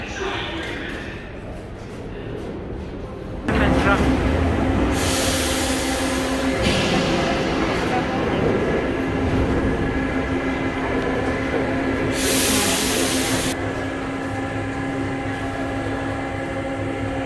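A Paris metro train heard from inside, a loud continuous rumble with steady tonal whine and rising screeching swells as it runs and brakes, people talking faintly beneath.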